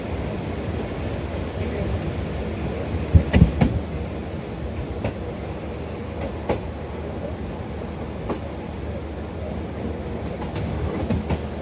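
Karakorum Express train rolling through a curved junction station, a steady rumble with a few sharp wheel clicks and clatters, carried on continuously from start to end.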